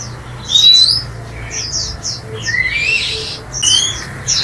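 Caged tiểu mi songbird at a bird shop singing a run of bright, rapid chirps and rising whistled phrases with a loud ending flourish, close and clear over faint low room hum.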